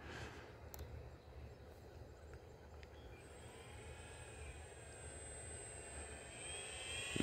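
An Arrows Bigfoot RC airplane motor drones continuously in flight, a faint, distant buzzing whine with a slightly uneven texture, rising a little in pitch and level toward the end.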